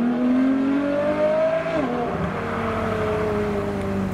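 A loud performance car leaving a car show revs hard and pulls away on the street, the engine note climbing, dropping at a shift, then droning on as it recedes.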